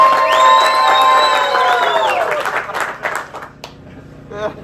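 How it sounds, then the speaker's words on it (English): A crowd claps and cheers in a round of applause at a bass fishing contest by a pond, loud and sustained at first with whoops, then thinning into scattered claps and voices. "by a round of applause, who thinks Houston won the contest?"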